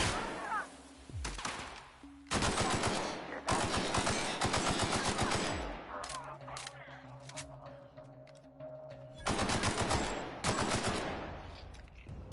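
Assault rifle fire in The Outer Worlds: Spacer's Choice Edition, heard as several loud bursts of rapid automatic shots separated by quieter gaps with a low hum and faint game sounds.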